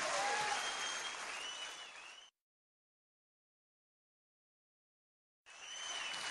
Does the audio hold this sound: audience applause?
yes